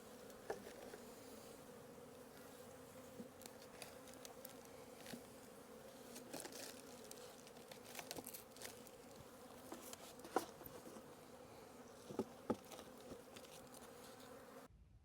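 A soft, constant hum of many honey bees buzzing together in a hive cluster in March, with faint scattered ticks and taps in the background.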